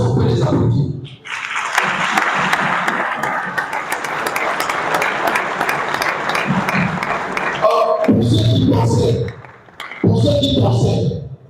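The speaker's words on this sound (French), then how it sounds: "est-ce qu'on peut les applaudir?" An audience at the Honorizon 2023 event claps steadily for several seconds in a full, close wash of applause, and a voice speaks once it fades.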